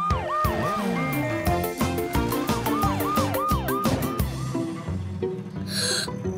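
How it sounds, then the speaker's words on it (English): A wailing cartoon bus siren sweeps up and down repeatedly, loud and close, over a busy musical backdrop, then cuts off near the end. "sirens on!"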